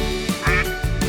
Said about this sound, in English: The park is alive. Ducks splash and quack.